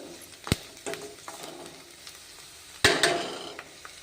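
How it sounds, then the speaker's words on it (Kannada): Tempering spices sizzle while frying in a pan, with a steady background crackle punctuated by two sharp stirring knocks, one early and one louder near the end. "ಇನ್ನೊಂದು ಚೂರು ಚೆನ್ನಾಗಿ ಫ್ರೈ ಆಗಲಿ"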